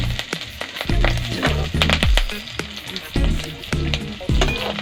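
Garlic, onion and chilies sizzle and fry steadily in a hot pan for a soybean chunk curry, with repeated stirring scrapes and clatters of a spoon against the pan, close and fairly loud, with no talk.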